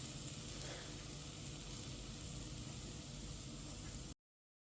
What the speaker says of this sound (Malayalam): ഇപ്പോൾ തേങ്ങയും അണ്ടിപ്പരിപ്പും ഒക്കെ ഇതുപോലൊക്കെ നെയ്യിൽ മൂത്ത് വന്നിട്ടുണ്ട്.